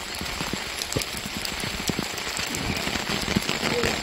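Steady rain falls on a stone temple path at a Korean mountain temple, a dense close patter with scattered heavier drops and taps, no voices.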